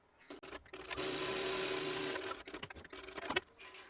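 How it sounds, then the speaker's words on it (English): A sewing machine stitching across a fabric sling bag, starting with a few short bursts, then running in one steady sustained hum before breaking into choppy, uneven stops and starts. "So I'm going to sew across."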